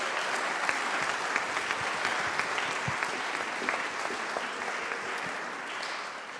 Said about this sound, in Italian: un applauso al rettore.